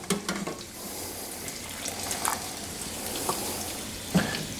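Spaghetti is stirred and lifted through salted pasta water in a pot, giving a steady wet sloshing and bubbling with a few sharper splashes, close and moderately loud, with no talking.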